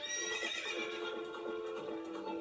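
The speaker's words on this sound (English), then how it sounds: "I always have trouble climbing this stinking horse" A horse in the N64 game The Legend of Zelda: Ocarina of Time whinnies as it is mounted, a bright drawn-out neigh with light hoof clops, fairly quiet and with no talking.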